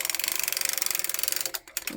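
Hand-cranked sock knitting machine clattering in a fast, even train of ratcheting clicks from its needles and cam mechanism, close and steady before pausing briefly near the end.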